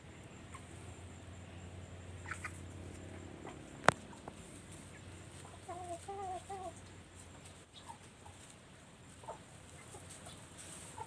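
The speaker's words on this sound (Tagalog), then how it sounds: "Ayan, kaya ito munang mga manok." Chickens on a rural farm give a few short clucks at moderate distance, with one sharp knock and quiet background noise.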